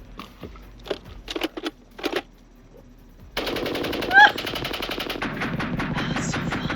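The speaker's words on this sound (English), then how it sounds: "I need you to man that Gatling gun." A Gatling gun firing in Red Dead Redemption 2 starts after a few scattered single shots, then breaks into a loud, sustained rapid rattle of rounds that continues to the end.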